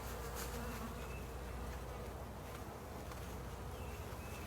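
Honeybees buzz steadily during an early-spring hive inspection, a dense continuous hum close by with individual bees whining past, and no voices.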